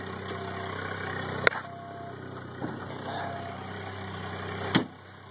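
A 1986 VW Cabriolet engine idles steadily with the hood open, a smooth even rumble heard up close, broken by a couple of sharp clicks or knocks near the start and end.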